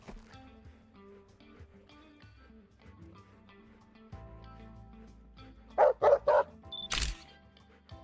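Dogs playing indoors, with a rumble of movement and low whimpers building to a burst of three sharp close barks and a final loud yelp.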